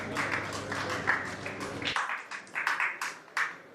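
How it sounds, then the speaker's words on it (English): Audience applause at an evening business event as a speaker is welcomed on stage: dense clapping and cheering at first, then thinner scattered claps through the rest. "Can we have a huge round of applause for Mr. Nayan?"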